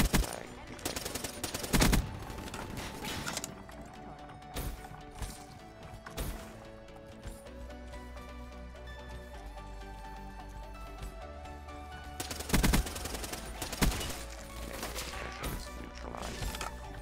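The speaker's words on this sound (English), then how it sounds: "I thought those shots behind me were an enemy." Bursts of gunfire from behind the player in the shooter Black Ops 3, sharp repeated shots breaking out in clusters around a steadier stretch of game sound, with little talk.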